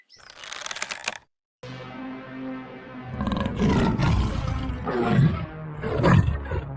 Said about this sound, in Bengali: ওরে বাবারে, বাঘ! চুটকি পালা!